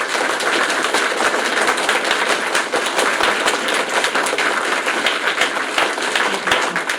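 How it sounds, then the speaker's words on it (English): Meeting audience applauding in a room: steady, dense clapping from many hands, fairly loud and continuous throughout, with no talk over it. "round of applause"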